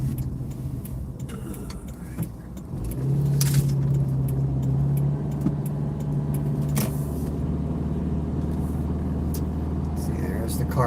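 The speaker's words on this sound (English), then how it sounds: "Car doing that crap again, sputtering." A car engine idles and then sputters, a low uneven rumble with a brief droning tone and scattered rattles and clinks, heard close from inside the vehicle.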